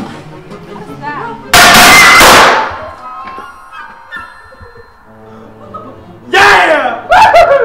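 A loud burst of crackling firecracker bangs erupts and decays during a high school Christmas skit, followed later by two more sharp pops, with voices and background sounds throughout.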